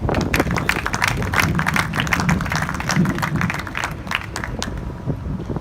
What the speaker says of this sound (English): big round of applause please for Jesse Vargas